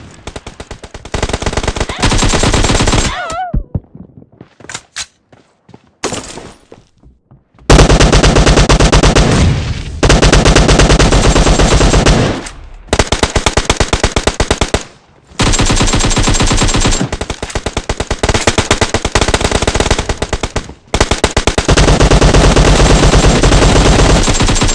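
Sustained automatic gunfire from a team deathmatch video game, loud and dense, in long rapid bursts separated by short gaps and a brief near-silent pause early on.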